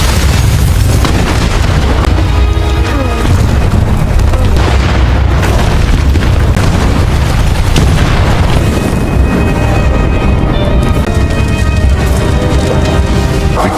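A loud, rumbling explosion in a film roars with sustained booming and debris-like noise, dense and close, with muffled voices and dramatic sound underneath.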